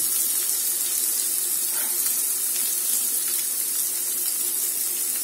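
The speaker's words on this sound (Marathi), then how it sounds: "आता याच्यामध्ये आपण हा उभा चिरलेला कांदा टाकून घेऊया." Sliced onion sautéing in a pan for a besan pithale recipe gives a steady, even sizzle that holds at a constant level throughout, close and alone, with no talk.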